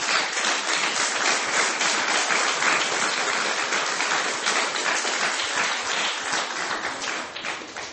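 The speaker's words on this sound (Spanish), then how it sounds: "Denle un aplauso al Rey." A church congregation applauds during a sermon, continuous dense clapping that holds steady and fades slightly toward the end.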